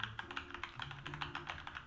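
Quiet, steady typing on a Keychron K2 mechanical keyboard, a fast run of light clicky keystrokes close up with no voices.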